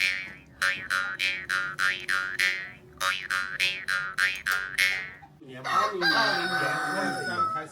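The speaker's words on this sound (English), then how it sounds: "We woke up the chickens with all our racket up here." Chickens crowing, a rapid series of about a dozen short, bright crows in quick rhythm, then a longer, fuller crow with overlapping noise, fairly close and loud.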